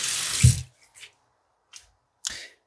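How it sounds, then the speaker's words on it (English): Water gushes from a faucet in a high-up building in a short, loud hiss, then stops, leaving a few faint taps and drips. "water still comes out of the faucet"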